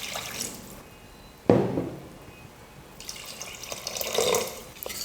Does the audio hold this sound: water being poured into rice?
yes